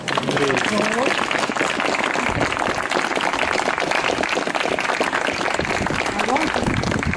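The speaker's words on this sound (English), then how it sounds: "Can we give them applause?" Audience applause for performers at the unveiling of a blue plaque on the side of a house in Halifax, a dense, steady wash of clapping lasting throughout, with voices and cheering mixed in.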